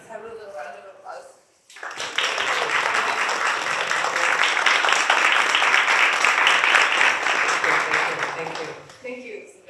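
An audience at an artist talk bursts into steady applause that swells and holds for several seconds before tapering off, with brief talk just before and after.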